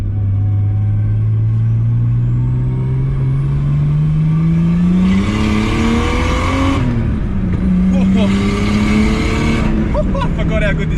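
A Nissan R32 Skyline with an RB25DET engine pulls hard, its note rising steadily through the revs before easing off and climbing again, loud and close from inside the car, with a voice speaking over parts of it.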